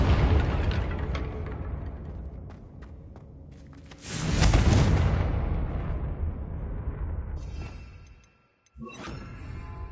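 A Confringo blasting spell in Hogwarts Legacy bursts into a loud, rumbling explosion with a rushing roar that swells and slowly fades. A second sharp burst follows near the end amid the game's ongoing combat noise.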